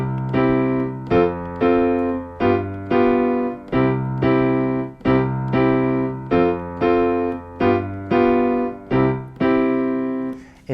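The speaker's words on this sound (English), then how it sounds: "In jazz swing, we would call that the Charleston rhythm." Jazz piano plays a calypso on-off figure in the Charleston rhythm, with repeated chordal stabs in a steady syncopated pattern, clear and close with no voices.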